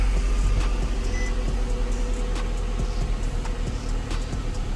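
A 2012 Nissan Altima engine idles steadily on a test run after alternator work, a continuous low hum and drone with faint ticking and no talk.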